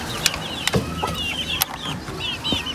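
Aseel chickens clucking in a backyard pen, short repeated clucks and squawks at close range over a busy background of other fowl, with no talking.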